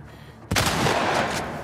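A single loud shotgun blast in the video game The Last of Us Part 2, with a sharp crack after a quiet moment and a long echoing tail.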